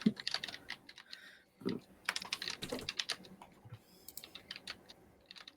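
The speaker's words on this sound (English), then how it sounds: "You get to hear us all typing." Several people tap away at computer keyboards in irregular bursts of quick, light clicks, close and fairly quiet, with brief pauses between flurries.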